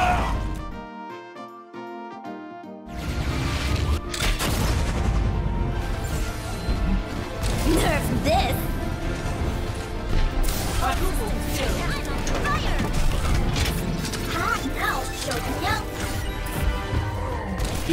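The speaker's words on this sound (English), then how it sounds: "here's a bomb that you can use from a very hidden location" D.Va's self-destruct bomb detonates on the Rialto map in Overwatch, a loud crashing blast followed by dense clattering debris and game noise, with a narrator talking over it.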